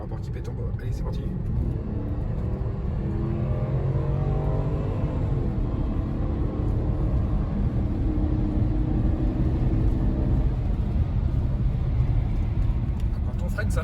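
A Porsche Cayenne 957S fitted with Chinese tyres accelerates in sport mode during a road test, its engine note climbing steadily through rising pitch with a constant rumble, while someone talks over it inside the car.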